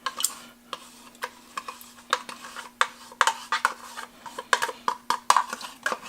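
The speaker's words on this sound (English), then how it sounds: "Give it a little bit of stir." A spoon stirs yogurt culture into milk in a pot at home, giving irregular light clinks and taps against the container over several seconds, close and fairly quiet beneath a faint steady hum.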